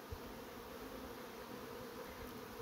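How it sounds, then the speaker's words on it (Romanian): A dense, steady hum of many honeybees flying during a play flight, near and continuous with no talk, a constant buzzing swarm-like drone. "când vezi un astfel de zbor, începi și te uiți pe sus, să vezi unde se pune roiul."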